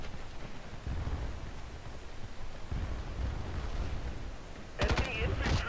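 Assault rifle gunfire in Battlefield Play4free: short rattling bursts with booming low thumps, ending in a louder, sharper burst amid battle noise.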